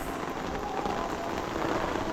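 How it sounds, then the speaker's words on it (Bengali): Rain pours onto a rooftop terrace where dragon fruit plants grow, a dense, steady hiss of drops without pause. "বৃষ্টি পড়তেছে"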